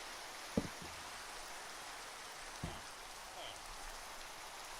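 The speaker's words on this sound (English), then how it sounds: "It's raining." Steady rain in Minecraft, an even, moderate hiss of falling drops with two brief low thumps cutting through near the start and middle.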